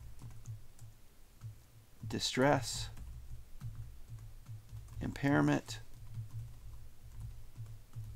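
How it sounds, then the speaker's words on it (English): Keys clatter on a computer keyboard during a lecture on psychological disorders, soft irregular clicks running steadily through the clip, with two short bursts of speech breaking in. "I'm typing it in chat."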